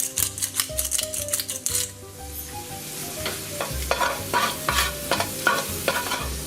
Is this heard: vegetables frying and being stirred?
yes